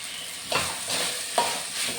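Chicken dropped into a hot frying pan, a steady close sizzle punctuated by two sharper bursts as pieces hit the oil, with no talking.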